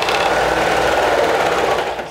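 A serger sewing machine with a dull blade runs at speed, straining to cut fabric, producing a loud continuous whirring buzz up close that tapers off at the end.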